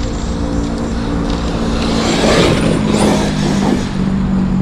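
Arrma Outcast 8S EXB radio-controlled car driving close by, a loud continuous high-pitched electric motor whine with tonal hum, swelling briefly as it accelerates mid-run.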